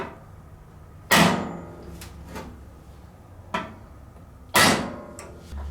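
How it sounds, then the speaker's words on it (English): Two sharp metallic taps ring out a few seconds apart, each with a few lighter knocks and shuffles between them, close by in a quiet room. "I'm just going to take this center punch and line it as center as I can get it."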